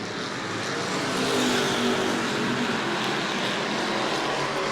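Super Stock race cars lapping the track at New Smyrna during a Super Stock 50 race, a steady, loud engine roar that swells slightly as the pack passes, with no talk.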